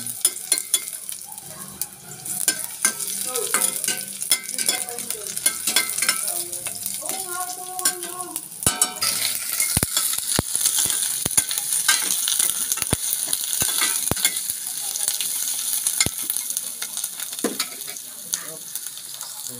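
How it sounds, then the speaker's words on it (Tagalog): Garlic and ginger frying in a pan while being stirred: a loud, continuous sizzle with sharp utensil clicks and scrapes against the pan, and faint talk near the start. "Ito lang bawang at saka luya, halo-halo na yan"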